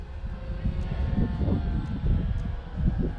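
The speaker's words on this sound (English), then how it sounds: "Little over half throttle gets this plane up." A beginner RC airplane flying a little over half throttle in windy conditions, its motor a steady, moderately distant drone mixed with rumbling wind noise, continuous throughout.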